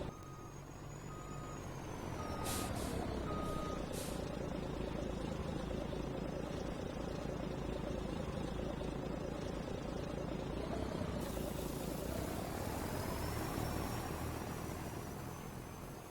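A gravel truck tailgates its load onto a ranch driveway, its diesel engine rumbling loud and continuous with a broad rushing spill. A few brief reversing beeps sound early on, and a rising whine follows near the end.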